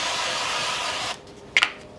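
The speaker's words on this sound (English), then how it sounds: "I'm going to spray it with some nonstick spray." Nonstick cooking spray is sprayed into a 9x13 baking pan in a steady close hiss lasting about a second, followed by a couple of quick clicks and taps.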